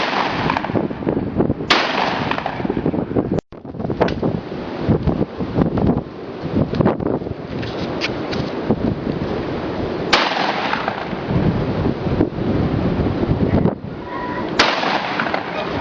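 Rifle shots fired at a bottle during outdoor shooting practice crack out sharply several times, spaced seconds apart, under heavy, constant wind rumble on the microphone.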